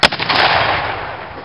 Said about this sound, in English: That concludes our cannon demonstration.